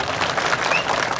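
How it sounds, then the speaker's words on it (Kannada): A crowd at a public rally marking ten years of Narendra Modi's government applauds loudly, a thick, sustained wash of many clapping hands close and even throughout. "ಚಪ್ಪಾಳೆ ಸ್ವಲ್ಪ ಬೇಗ ಹೊಡೆದ್ರಿ ನೀವು"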